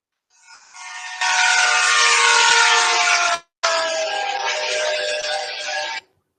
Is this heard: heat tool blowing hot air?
no